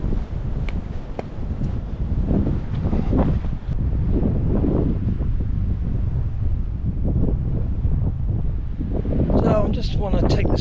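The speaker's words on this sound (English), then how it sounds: "Just want to take this shot while there's a little bit of wind, just to see how these mics work on this GoPro 10." Wind buffets the microphones of a GoPro 10 on the Pacific Crest Trail, making a low, rumbling, gusty roar that rises and falls, with a brief crackle near the end.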